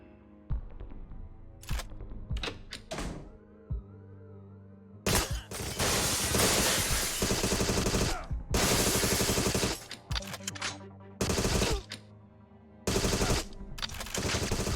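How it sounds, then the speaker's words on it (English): Video game gunfire in a GoldenEye-style retro shooter, loud sustained bursts of automatic shots alternating with single cracks and brief pauses, with a low background hum. "the bullet's totally shot through the pillar right here"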